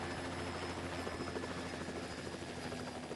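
A helicopter drones steadily with a dense rotor chop and engine whine, continuous and loud throughout, with no voices.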